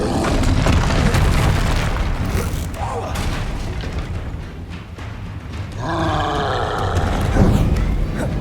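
Confringo fire-blast spell in Hogwarts Legacy, a booming explosive impact with rumbling low end amid busy combat effects and roars, followed by crackling bursts near the end; loud and close, with no talk.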